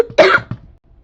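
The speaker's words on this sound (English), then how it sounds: "Sorry if I cough a lot" A sick person gives one sharp, close cough. A brief throaty catch follows before it fades to quiet, and it is loud and isolated with no talking.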